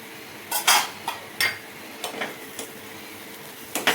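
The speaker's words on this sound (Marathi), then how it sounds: "आता झाकण काढून बघू" Metal lid lifted off a pan of semolina sheera, a series of close clinks and scrapes of metal on metal scattered irregularly across the moment, fairly sharp against a quiet background.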